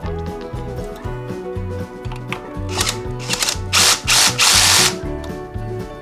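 An electric screwdriver drives screws into an actuator kit in rapid buzzing bursts, with a loud ratcheting clutch chatter near the end.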